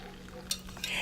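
A utensil stirs a hot blueberry jello mixture in a pot on the stove, giving soft scraping and swishing strokes with a few sharper clinks over a steady background hum.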